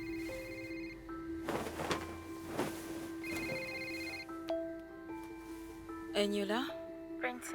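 A telephone rings repeatedly while a call is being retried, its steady electronic tone pattern repeating over several seconds, with people talking over it.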